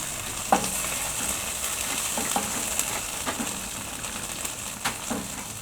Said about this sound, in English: So now I'm going to add the ginger paste. Give it a mix.